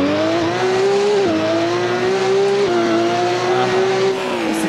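Race car engine and tire squeal in the Assetto Corsa video game on an open-world island map: a loud, continuous engine whine with brief dips at gear changes.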